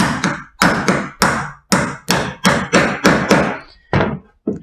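A hammer taps an old chisel wedged under a furniture glide, giving eight sharp, evenly spaced metallic knocks, each ringing briefly before the next, close and loud, with no talk.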